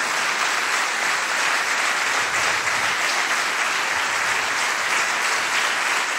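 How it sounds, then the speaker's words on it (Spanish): Continuous, even applause from a church congregation, dense and loud without a break from start to finish. "Un aplauso para el Señor."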